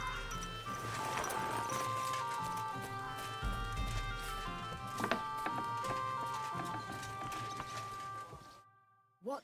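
Steady clip-clop of horse hooves in the video game Kingdom Come: Deliverance II, over a sustained musical backdrop, with a few sharp knocks before it cuts to near silence.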